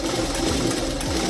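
Sewing machine running steadily while stitching a blouse in zigzag with pink and gold thread, a close, continuous mechanical whir with rhythmic needle pulses.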